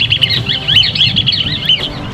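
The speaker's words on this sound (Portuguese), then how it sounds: "O canto, gravado em um dos encontros, serve para atraí-la" Recorded bird song played back to lure birds in Chapada dos Guimarães, a bright run of quick high chirps and warbled notes repeating in bursts, loud and close over faint low background.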